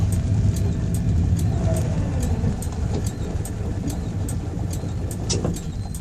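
A Citroën 2CV rolls downhill during a bump-start attempt, giving a continuous loud road rumble with repeated light ticking clicks throughout.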